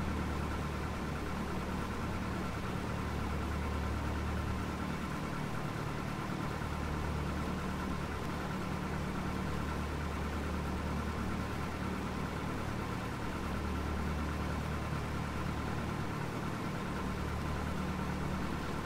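Simulated Cessna 172 piston engine idling on the ramp before run-up, a steady low drone with slight rhythmic throb held evenly throughout, no voices.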